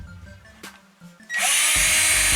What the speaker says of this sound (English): and you twist with the drill